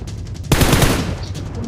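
Gunfire in PUBG Mobile: a sudden loud burst of rapid shots breaks in after a quiet moment, then trails off into echoing reports.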